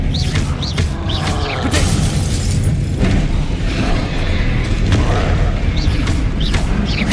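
Loud Expelliarmus spell casts in Hogwarts Legacy during a busy fight, dense booming impacts and crashing bursts layered over constant rumbling effects, with a couple of distinct magical whooshes and no pause in the din.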